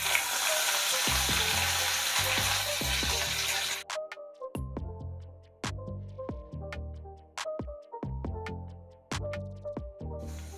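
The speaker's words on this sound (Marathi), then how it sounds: "मोहरी तेलात तळतळली आहे" Mustard seeds and green chillies sizzle in hot oil with a dense crackling hiss for the first few seconds, and then the frying drops away beneath a run of plucked musical notes separated by short pauses.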